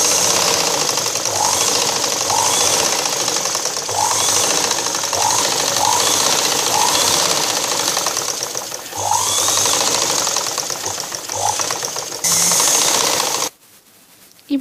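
Sewing machine stitching along a blouse lining, with a loud continuous mechanical whir running for several seconds at a time, a few brief changes in pace, and a sudden stop near the end.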